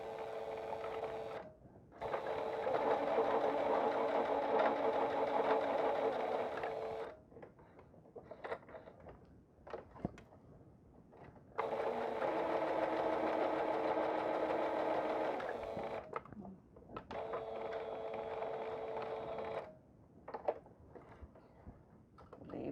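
Sewing machine stitching fabric scraps into a patchwork cord, running in three steady mechanical bursts with short quiet pauses between, close and fairly loud.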